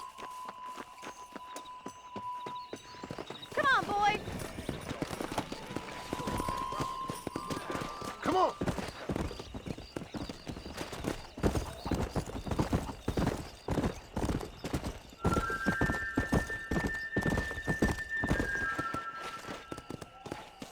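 Horses gallop in Red Dead Redemption on PS4, with a steady, close run of hoof clip-clops lasting throughout and an occasional neigh, over a constant game ambience with brief tonal cues.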